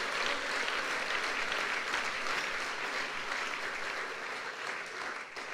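A church congregation claps steadily in a strong, sustained round of applause at a sermon, even and continuous throughout, fairly distant with no clear voices.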